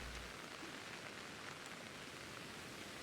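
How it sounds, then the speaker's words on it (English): Rain in the video game Pokemon Legends Arceus falls as a soft, steady hiss of drops, faint and continuous with no voices. "I hear the rain."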